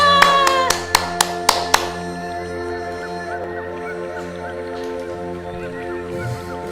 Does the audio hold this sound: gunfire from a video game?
no